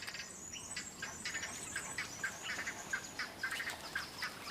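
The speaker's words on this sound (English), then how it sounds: "These peculiar birds roost in the forest canopy, where they are beyond the reach of danger." A flock of birds roosts in a forest canopy, giving faint, busy chatter and squawking calls with quacking tones in rapid irregular bursts, distant and steady throughout.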